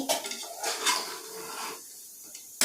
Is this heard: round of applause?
no